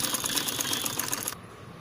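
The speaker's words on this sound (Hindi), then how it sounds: "कॉर्नर की सिलाई को डबल स्टिच करें।" A sewing machine runs a fast, continuous mechanical chatter as it double-stitches the corner of a layered kids' party dress, then cuts off abruptly near the end, leaving quiet room hiss.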